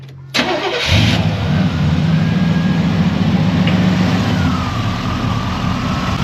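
A 1987-95 Chevrolet engine with throttle body injection cranks briefly and catches, then settles into a loud, steady, rumbling idle that continues to the end.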